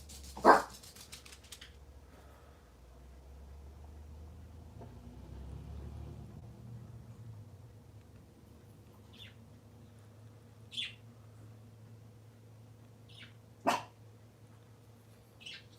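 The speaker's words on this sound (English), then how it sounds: "Uh-oh, puppies." Dogs barking indoors in a home with pet parakeets, a few sharp barks spread far apart over a quiet background hum, with faint bird chirps in between.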